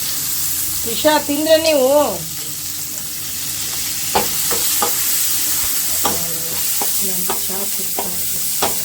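Onion and chilli frying in a pan give a steady, close sizzle throughout, with occasional stirring clinks. Voices talk over it at times, and a melodic voice-like tone rises briefly near the start.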